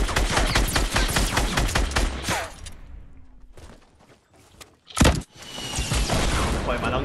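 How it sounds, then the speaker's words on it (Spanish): Dense, rapid gunfire in the video game Fortnite crackles for a couple of seconds, falls quiet, then one sharp close shot rings out before the shooting resumes. "He escuchado disparos."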